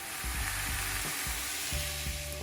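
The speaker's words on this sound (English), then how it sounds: "I'm going to heat up some garlic and brown some mushrooms in there" Garlic and mushrooms brown in a stock pot, a steady close sizzle with intermittent low thumps and stirring knocks, and no speech.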